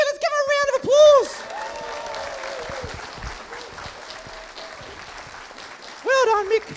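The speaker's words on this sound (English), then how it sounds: "Let's give him a round of applause." Audience applause and some cheering at the 2017 International Space Camp opening ceremony, a steady moderate wash of clapping in the middle, with a voice speaking briefly before and after it.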